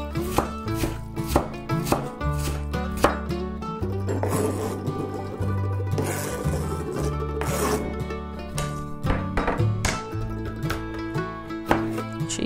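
A knife chops white onion for salsa bandera on a cutting board, a quick, steady rhythm of close, crisp cuts continuing throughout.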